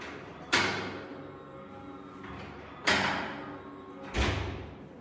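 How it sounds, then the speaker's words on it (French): A front door fitted with an EZVIZ smart lock opens and shuts indoors, three sharp thuds of the door and latch with a quieter mechanical rattle in between. "Comme vous l'avez vu, Tasnim peut ouvrir la porte toute seule."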